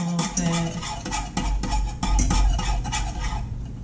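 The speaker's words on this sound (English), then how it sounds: "So I'm actually going to put this in and then whisk while I'm putting it in so it doesn't clump" Beef gelatin is whisked into liquid in a bowl for homemade Jello, a rapid close clatter of metal whisk strokes against the bowl, steady and rhythmic with no voices.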